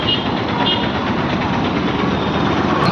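Rumbling drone of a Telangana city bus engine, a continuous loud low roar with broadband road noise close by, running unbroken throughout.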